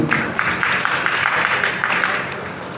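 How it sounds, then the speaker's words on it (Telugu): Crowd clapping at an engagement ceremony, a dense continuous patter of many hands close by, holding steady and then easing slightly toward the end. "చప్పట్లు కొడదాము."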